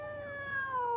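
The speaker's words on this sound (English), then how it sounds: "Here, kitty, kitty, kitty, kitty, kitty." A house cat meows once in a long, drawn-out, slightly falling cry, close and clear with no voices over it.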